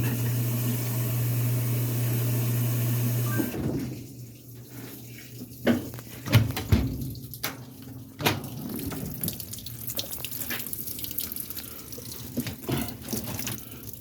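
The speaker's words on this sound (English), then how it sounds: "It looks like it's trying to spin the rinse" Washing machine running water into its drum during the rinse cycle, a steady hum for the first few seconds, then softer splashing and trickling water with a few sharp knocks and clunks.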